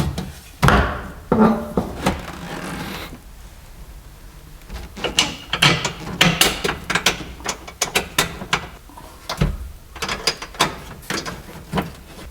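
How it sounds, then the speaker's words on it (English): Door being trial-fitted onto a Lotus Elise with shims on the hinges, giving irregular metallic clunks, clicks and scraping knocks in clustered bursts, close and moderately loud, with quiet gaps between. "put the door in place and see what happens"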